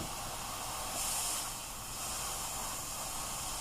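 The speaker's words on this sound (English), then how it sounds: "we're gonna let some of our steam out so this cools down a little bit" Steam is vented from a pressure cooker holding a hummus base, a loud continuous close hiss that swells slightly about a second in and then holds steady.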